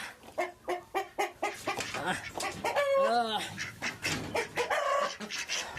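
A hen clucks repeatedly in short rhythmic bursts after laying an egg, rising into a drawn-out squawking cackle midway, close by, with faint voices in the background.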